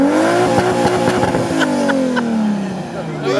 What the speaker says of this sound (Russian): Газани. Вот на стандартном моторе.